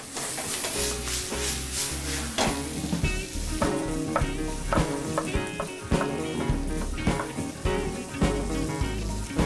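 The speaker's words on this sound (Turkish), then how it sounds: "Soğanımızın Kavurmaya devam ediyoruz." Onions sizzling and frying in a hot pan, a steady crackle with occasional stirring scrapes, close and fairly loud, no talking.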